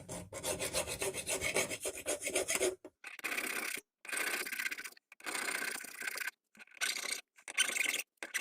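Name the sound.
hand file filing hardened steel of pipe wrench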